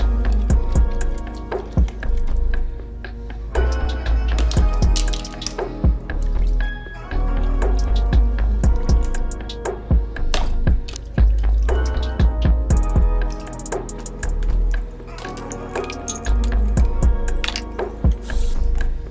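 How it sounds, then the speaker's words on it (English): Makeup brushes are dipped and swirled in soapy water in a mug, making close, wet squishing and sloshing sounds in repeated bursts with small drips and splashes. "I take each one of my brushes and dip it into the soapy mix."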